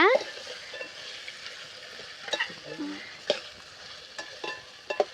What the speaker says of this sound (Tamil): நல்லா வணக்கி விட்டுக்கோங்க